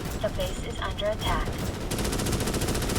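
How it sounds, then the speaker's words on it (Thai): Sustained rapid automatic gunfire in the video game Starship Troopers: Extermination, dense, loud bursts without a break, with someone talking over it. "สาดกระสุนเข้าไป อย่าหยุดจนกว่าพวกแมลงมันจะตายให้หมด"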